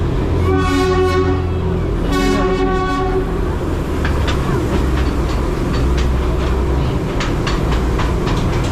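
A Darjeeling joy train passes right beside shop doorways: two loud horn toots, then a steady rumbling roll with rhythmic wheel clacks close by.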